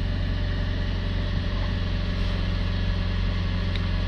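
A Vauxhall Vivaro van engine held at a constant raised speed of around 3,000 RPM gives a steady, droning hum with no change in pitch throughout, and no speech.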